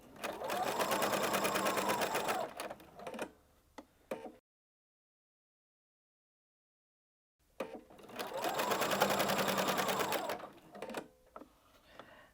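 A sewing machine stitches shirring lines into fabric in two loud, rapid runs of several seconds each, separated by a silent pause, with soft clicks as each run stops.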